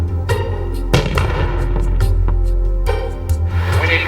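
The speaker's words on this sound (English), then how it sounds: "the mortars are tested" Stunt mortars loaded with explosives are test-fired, giving a loud series of heavy booms and sharp cracks over a deep rumbling background, several blasts spaced about a second apart.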